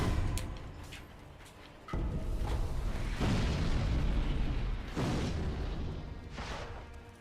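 Rocket launcher blasts in Sekiro: heavy booming explosions, three or four big bursts a second or so apart over a rumbling low background, loud and close.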